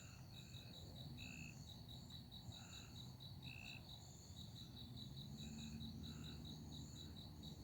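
Frogs croak at night around a river canoe camp, a faint, distant chorus of short calls that repeats under a steady, pulsing cricket trill.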